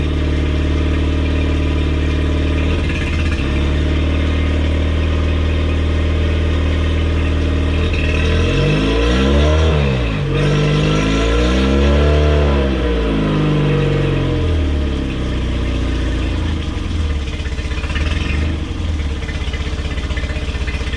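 A Tohatsu 8 hp four-stroke outboard motor runs steadily and close by, a continuous droning engine note whose pitch sweeps up and down mid-way as it is revved, with no voices over it.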